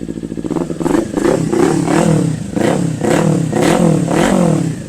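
A 2018 Kawasaki Ninja 400 sports motorcycle engine, parked and close by, is blipped repeatedly toward 5000 rpm, giving a loud, rhythmic series of sharp revs that rise and fall, with no talk.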